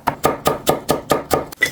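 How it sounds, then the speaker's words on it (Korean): A knife chops apples into thick strips on a cutting board for homemade apple jam, giving eight crisp, evenly spaced thuds in a steady rhythm, close and clear with no talking. "굵직굵직하게 채를 썰어서"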